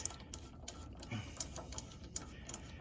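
A 3/8 ratchet loosens the spark plug on a John Deere lawn tractor, giving a series of faint, quick clicks at a steady pace against a quiet background.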